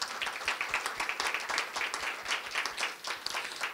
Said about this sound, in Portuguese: queria pedir a todos, então, uma salva de palmas para os nossos panelistas